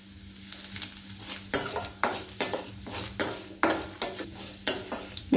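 Red chillies and black peppercorns sauté in a pan for thuvaiyal. A spatula scrapes and stirs in regular, close strokes over a soft, constant sizzle, with no talking.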